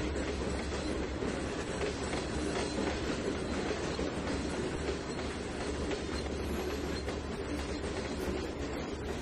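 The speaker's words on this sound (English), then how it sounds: "Ride the empty ethanol tanker back to the Harley Brothers Good Shipping." A train in Trainz 2019 hauls an empty ethanol tanker car, giving a steady, continuous rumble of rolling wheels with faint clickety-clack and a light squeal, loud and unbroken throughout with no voices.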